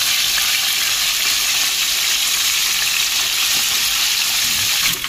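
Loud, steady sizzling of freshly caught fish frying in hot oil, close by and continuous throughout.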